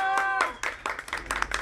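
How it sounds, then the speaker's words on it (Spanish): Hands clap at a children's party clown show, a quick uneven burst of claps mixed with a sung or shouted voice, close and fairly loud. "¡Fuerte el aplauso!"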